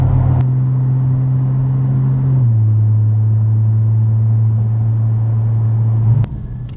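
A Porsche GT4 with its exhaust valves opened rumbles at a steady, deep, close drone, dipping slightly in pitch partway through before cutting off near the end.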